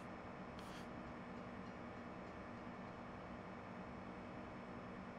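A train rolls past in Farming Simulator 17, a steady, loud, dense rumble that fills the whole stretch without letup and has no voices over it.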